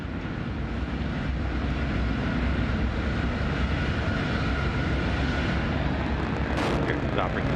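A Northrop Grumman resupply rocket's first stage burns during launch toward the International Space Station, a steady, dense, distant roar that holds constant throughout while someone speaks over it.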